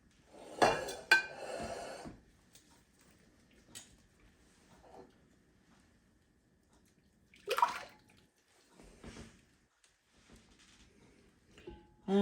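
Bowls and dishes clink and clatter as cinnamon roll dough ingredients are moved from a warm bowl into another, with a busy burst at the start, scattered knocks, and another cluster of handling near the end.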